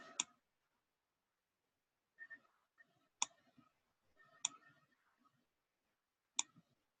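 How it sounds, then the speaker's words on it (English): A computer mouse clicking while selecting in an image editor produces several sharp, isolated clicks spaced a second or more apart, very close and quiet, with faint softer ticks between them. "Just clicking and dragging here."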